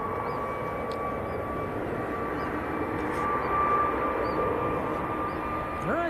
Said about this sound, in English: this is Jet2 to Gran Canaria. Another A321neo